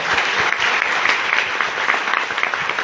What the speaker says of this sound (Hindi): तालियां होनी चाहिए वेस्टीज के नाम से तो।